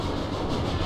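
A train rolls along steadily in the prison-escape game The Escapists 2, a continuous rumbling clatter of carriages with no voices over it.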